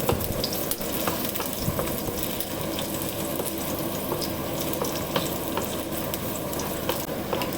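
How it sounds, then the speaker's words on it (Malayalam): Kerala-style masala sautéing in a pan at home, a steady close sizzle and crackle with faint scraping stirs running throughout, no talk. "എന്നിട്ട് ഇത് എപ്പോഴത്തെയും പോലെ വഴറ്റി എടുക്കുന്നു."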